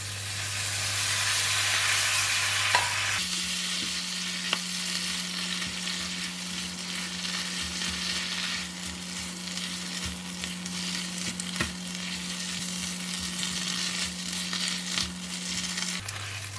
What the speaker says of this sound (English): Continue to stir fry until the vegetable is cooked.